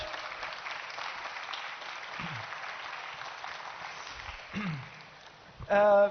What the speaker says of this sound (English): Can I give a round of applause for Manuela Gelling, Jean-Luc Ripoteau and R